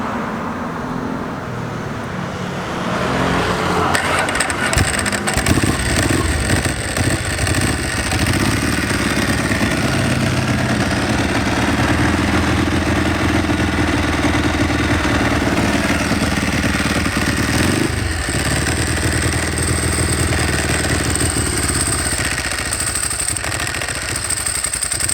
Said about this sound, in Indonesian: Mungkin kalau gitu kita coba nyalain dulu ya, dengerin suaranya, dry clutch-nya kayak apa.